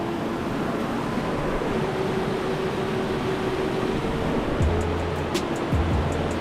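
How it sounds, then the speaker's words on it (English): Steady broadband rush of a waterfall heard nearby in a natural setting, constant and fairly quiet, with faint tonal hum and a few brief knocks late on. "We made it to one of the waterfalls, y'all."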